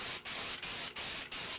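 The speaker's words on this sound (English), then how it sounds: "I find it necessary to come back then and look straight on at it and spray again" Spray paint hisses from a can onto a Woodland Scenics model building in four steady bursts with brief pauses between them, close and loud.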